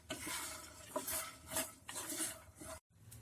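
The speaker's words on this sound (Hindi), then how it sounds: "इन सभी इंग्रेडिएंट्स को हाई फ्लेम पे 2 मिनट के लिए भून लें।" Cashews, whole black peppercorns and chironji dry-roasting in a pan over a high flame, stirred with a utensil: close scraping and rattling strokes in an uneven rhythm, with a brief silent gap near the end.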